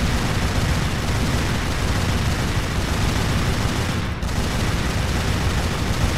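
Continuous, dense gunfire in the video game Tomb Raider: Legend, a loud unbroken barrage of rapid shots with a brief dip near the end.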